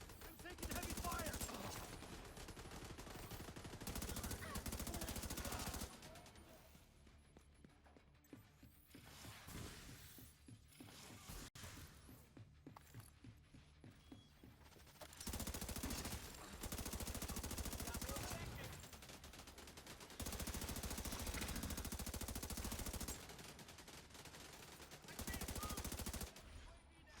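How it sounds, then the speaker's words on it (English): Automatic assault rifle fire in The Division 2 video game comes in loud, sustained bursts that alternate with quieter stretches of scattered shots and clatter, with brief voice lines underneath. "I'm taking heavy fire."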